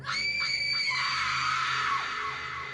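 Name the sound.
scream sound effect in horror story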